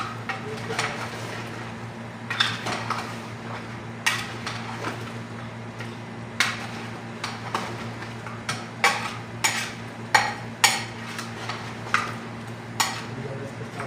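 A spoon scrapes and clinks against a pot while masala is stirred for siri paye, a run of irregular metallic knocks over a low, steady background hum.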